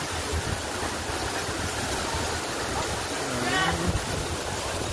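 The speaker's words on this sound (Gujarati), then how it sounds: "મિત્ર તમે જોઈ શકો છો, આ છે શંકર ધોધ" Constant rushing roar of Shankar waterfall fills the scene at moderate level, with faint voices briefly audible beneath the water.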